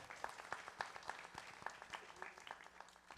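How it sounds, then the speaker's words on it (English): An audience applauds an elderly woman, Mataji, at a family kirtan gathering: quiet, fairly distant clapping with some sharper individual claps standing out. "Give her a round of applause"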